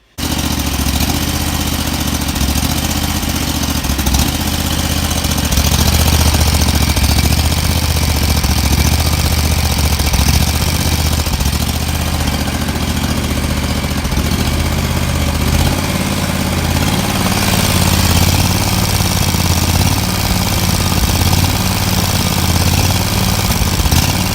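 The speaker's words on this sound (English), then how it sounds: "The engine surges a little bit at anything other than full throttle when it's not under load" A Ferris IS4000 mower's Kawasaki FD750 engine runs steadily and loudly the whole time, surging up and down slightly unloaded below full throttle in a continuous rough drone, with no voices.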